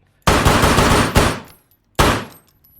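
Gunfire in the video game Operator: two loud, close bursts of rapid automatic shots, the first longer and rolling into a second volley, then a brief pause before another short burst.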